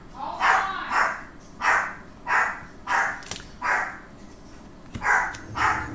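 A dog barks over and over, about eight evenly spaced woofs at moderate distance, each a short bright bark with a brief pause between, and nobody talks.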